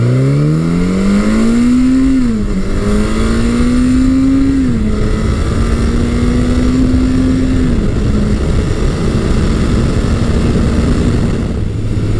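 Suzuki GS1100E motorcycle cruising in fourth gear at about 60 mph and 4000 RPM, a loud, steady engine drone. Its pitch rises and dips with small throttle changes, heard up close with wind rush and no talking.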